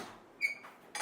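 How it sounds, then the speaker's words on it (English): A medieval-style metal bolt being worked to open a budget hotel room door, giving a faint, short creak followed by a scrape and a second brief metallic rasp, quiet and close. "It's like a medieval bolt that opens this door."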